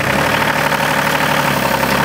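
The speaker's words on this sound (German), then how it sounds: "Ich wusste gar nicht, dass der Trecker so langsam fahren kann." A tractor's diesel engine idles at close range, a loud, steady low rumble with a fast even knocking pulse that holds without change and no voices over it.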